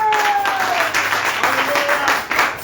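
A church congregation applauds during a Sunday service, a steady wash of claps filling the room while a sustained tone and some voices carry over it.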